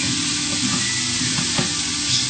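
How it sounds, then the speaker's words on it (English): Meat browns in a hot pan while a spatula pushes it around, a close, steady sizzle with faint scraping strokes and no talking. "Just to mix it around and put the meat over as it's browning."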